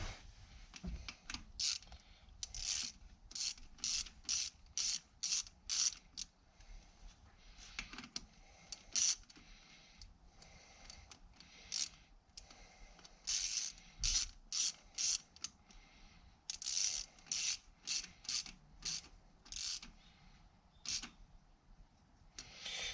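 Bolts being driven in with a ratchet during a short shifter install on a Toyota Altezza SXE10, quiet repeated clicking bursts in quick runs separated by pauses, close and faint.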